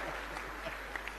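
An audience claps steadily at a live comedic poetry performance, a dense, even patter of many hands sustained across the short moment, slightly distant in the room.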